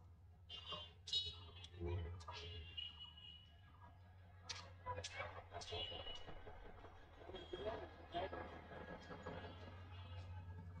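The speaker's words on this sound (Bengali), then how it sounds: "ট্রেন আসছে।" A train approaches at Santahar railway junction in Bangladesh, a faint, distant rumble with scattered metallic clicks and clacks from the rails.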